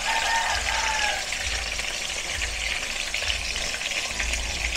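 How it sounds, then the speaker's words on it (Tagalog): Garlic sautéing in a pan for adobo, a dense continuous sizzle of frying close to the microphone with faint low stirring thumps underneath, steady throughout and with no talk. "Sa bawang ko lang po yan ginigisa para maging adobo."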